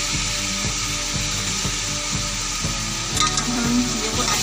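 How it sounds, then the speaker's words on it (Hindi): Spices with garam masala frying for chicken biryani, a soft continuous sizzle with regular rhythmic scraping stirs of a spoon in the pan, no voices. "हम इन चीज़ों को अच्छे से भून लेंगे।"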